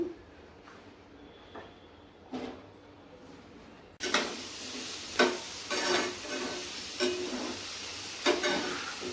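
Onion frying in two tablespoons of oil in a pan, a soft sizzle that jumps louder partway through, with repeated scraping stirs at close range.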